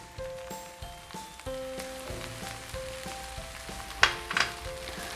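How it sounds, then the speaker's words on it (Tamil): Tamarind rice mixture for Madurai-style puliyodharai, with curry leaves, stirred in a frying pan. A soft, steady sizzle sits under faint sustained tones, and two sharp scraping clicks come near the end. "இந்த மாதிரி நல்லா ஈவனாக கிளறி விடுங்க."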